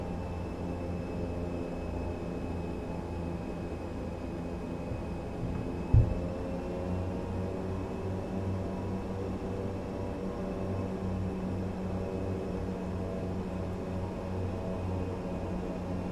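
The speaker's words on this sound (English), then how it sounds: "Since we still have both engines running, you can still see the airplane starts to taxi very nicely all by itself." ATR 72 turboprop engines run while taxiing in a flight simulator, a steady droning hum with a faint whine that holds throughout, broken by a single short knock near the middle.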